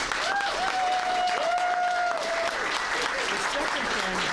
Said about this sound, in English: Big round of applause for him.